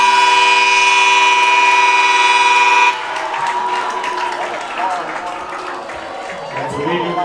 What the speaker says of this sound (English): some boos from the crowd after a car horn going off after the touchdown